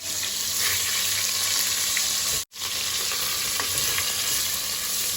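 Salted tilapia frying in a hot pan beside a garden egg stew in Ghana, a steady loud sizzle that runs on without pause and breaks off for a moment once.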